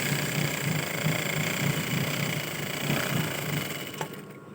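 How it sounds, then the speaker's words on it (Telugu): A sewing machine stitches in a fast, steady mechanical rhythm, close and continuous, then stops abruptly near the end. "ఇంకొక కుట్టు వేసుకోవాలి"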